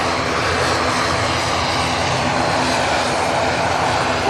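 At Manchester Airport, an airliner begins its takeoff roll with a loud, steady engine roar that stays constant throughout and is heard alone, without voices.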